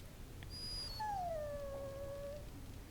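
A dog whimpering in the video game Dragon Age: Origins, a single drawn-out, falling whine that is clear and close against a faint background hum.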